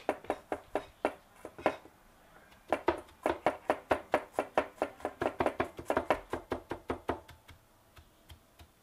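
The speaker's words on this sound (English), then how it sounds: "First step, cut a lot of garlic." Garlic chopped with a knife on a cutting board for jiaozi dipping sauce, a quick, steady run of sharp close knocks in two bursts with a short pause between, no talking.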